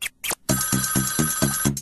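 A telephone ringtone plays loud and close, repeating a rhythmic pulsing pattern of about five quick beats with a steady high tone running beneath it.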